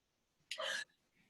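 A single short, sharp sneeze bursts out close by in an otherwise quiet room, followed by near silence.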